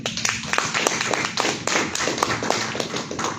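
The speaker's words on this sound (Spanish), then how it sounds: "Un fuerte aplauso" An audience at a workshop on electoral education claps, many hands tapping in an uneven, moderately loud patter that holds steady through the stretch with no talk.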